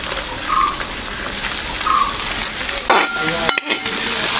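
Chopped onion frying in a pan with garlic and ginger paste for pepper chicken: a steady close sizzle with occasional scraping stirs, running continuously with no talk.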